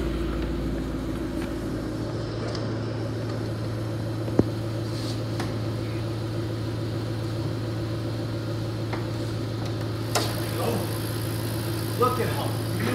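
Steady low idle of a 2011 Ford Shelby GT500 engine hums close by, an even rumble throughout with occasional small clicks and some background sounds.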